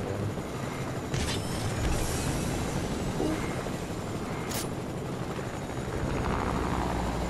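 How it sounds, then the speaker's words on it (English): Steady, loud whirring of a helicopter in the video game Fortnite, rotor and engine droning continuously with little variation throughout and no talk over it. "We may need to try and get a fresh helicopter, though."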